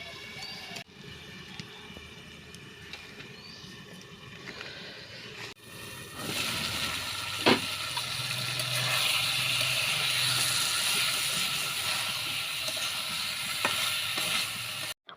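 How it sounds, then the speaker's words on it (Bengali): Hilsa fish curry with taro being sautéed in a pan: a quiet stretch gives way to a louder, steady sizzle after water goes in, with a brief clatter partway through and no talking. "পানিটা দিয়ে আমি এটা ভালোভাবে কষিয়ে নিব।"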